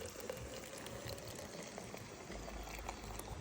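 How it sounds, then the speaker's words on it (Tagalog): A kettle rumbles and hisses steadily at a campsite as water nears the boil, a constant bubbling roar without pauses. "Itong ating mamahaling takure."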